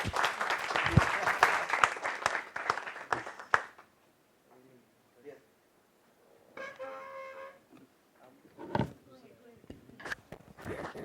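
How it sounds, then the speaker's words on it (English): An audience claps in a lively burst for a few seconds, then the applause fades out, followed by sparse noises and faint talk in the room. "Let's give a big round of applause"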